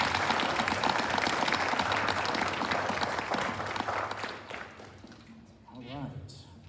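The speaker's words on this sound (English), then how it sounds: "One more big round of applause for everybody" Audience applause at a school board meeting, a sustained crowd of hands clapping fairly loudly, then fading out as a voice begins speaking.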